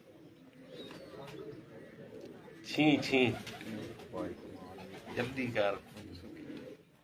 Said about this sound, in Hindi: आप कबूतर आपके सामने, चेयरमैन साहब के हाथ में है क्या कबूतर